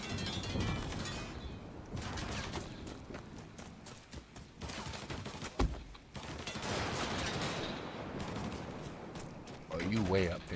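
Rapid bursts of gunfire in the Mafia III video game crackle loudly and almost without pause, broken by short gaps and a few sharper single shots, with a voice speaking over the shooting near the end.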